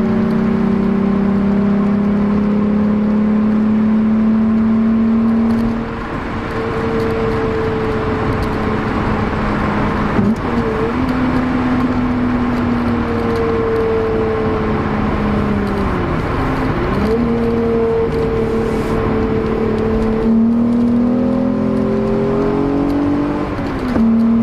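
Volkswagen Corrado VR6 engine under load, a loud, steady mid-pitched drone with rising and falling tone as revs climb and dip, including brief blips between shifts, heard without talk.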